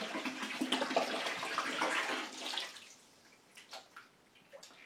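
Liquid dye poured from bottles into water, a steady splashing gush for about two and a half seconds that tapers into faint trickles and drips, close and alone.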